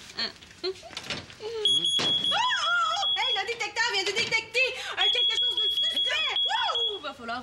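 A battery-powered smoke detector sounds a shrill, steady high-pitched alarm indoors, with intermittent beeps continuing while people talk over it.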